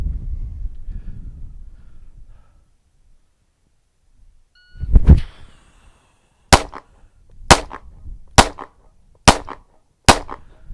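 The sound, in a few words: five handgun shots fired one-handed at target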